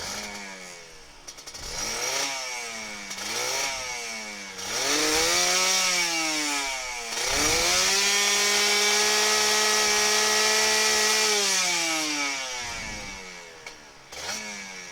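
A Kawasaki Ninja RR 150 two-stroke motorcycle engine warming up nearby with an aftermarket expansion exhaust, repeatedly revving up and down then holding a higher steady rev, loud and buzzy with no talking.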